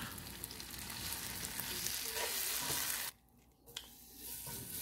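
A steak fries in a pan over medium-high heat with a steady, fairly quiet sizzle that breaks off abruptly near the end, then resumes faintly.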